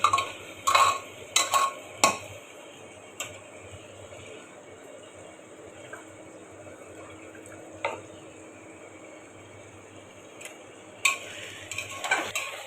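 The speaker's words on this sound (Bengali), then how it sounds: "মাংসটা একটু তেলের সাথে হালকা ভাজা ভাজা করে নিয়ে তারপর পানি অ্যাড করবো" Mutton being stirred and lightly fried in oil in a pot, with scattered scraping clinks of a spoon against the metal over a faint, steady sizzle, the louder stirring strokes clustering at the start and end.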